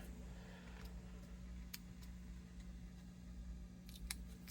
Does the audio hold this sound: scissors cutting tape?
yes